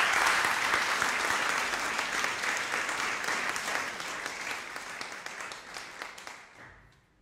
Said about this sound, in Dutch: Geef ze een heel warm applaus.